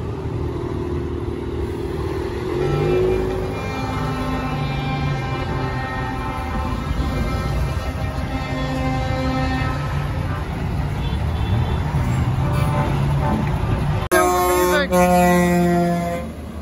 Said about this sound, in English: Apparently there's over 500 and something lorries coming down for a charity event.